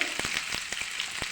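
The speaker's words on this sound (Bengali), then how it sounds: "অল্প নেড়ে নেব" A spice paste for shahi matar paneer, made without onion or garlic, sizzles in a pan with a steady hiss while a spatula stirs it, scraping in sharp, regular clicks.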